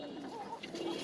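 Fancy pigeons cooing softly nearby, a brief low throaty coo heard once and then again, against a quiet background.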